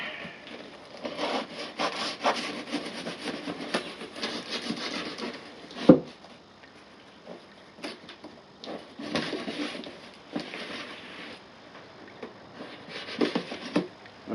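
A sharp, blunt unboxing tool scraping and slicing through a cardboard box in a series of rough rubbing strokes, near and moderately loud, with one sharp knock midway and brief pauses between cuts.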